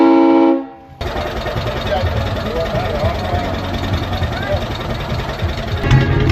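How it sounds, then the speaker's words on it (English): Train horns mounted under the hood of a mid-80s Cushman at a car show give a short loud blast, then cut off into the low rumble of an idling engine. "The best part, the train horns under the hood."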